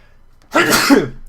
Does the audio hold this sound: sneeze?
yes